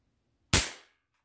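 A Barra 1866 cowboy-style air rifle fires once after two pumps, a single sharp, loud crack followed by a short decaying burst of air, with silence before and after.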